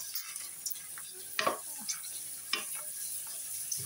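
Shrimp crackers fry in hot oil, a soft sizzle broken by scattered scraping stirs and a few clinks of a utensil against the pan, with no voices.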